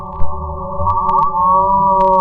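A synthesized tone built from stacked sine waves roughly imitates a cow's moo: a steady, loud, buzzing drone with a few faint clicks, held for about two seconds without speech.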